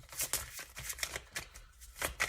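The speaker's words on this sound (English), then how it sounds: "So I'm just going to keep shuffling and pull roughly 4 more cards" Tarot cards being shuffled by hand, a quick run of soft riffling and slapping bursts, close and fairly quiet, with no talking.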